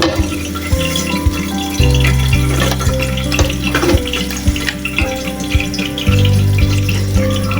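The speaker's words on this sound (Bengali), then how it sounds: "তেলে ফ্রাই করছি" Potato and chicken pieces frying in hot oil in a home kitchen, a steady loud bubbling sizzle with watery crackle throughout, with occasional clicks of utensils.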